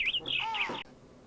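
Bird chirps in a Minecraft-themed setting: a quick run of bright, high tweets and a short warbling call, close and fairly clear, ending abruptly and leaving faint background hiss.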